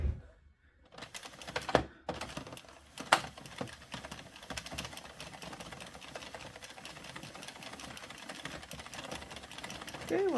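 An Addi 46 knitting machine is hand cranked with Lion Brand Chainette yarn, making a steady, rapid clattering of needles and carriage that runs on continuously after a few hesitant starts, close and fairly quiet.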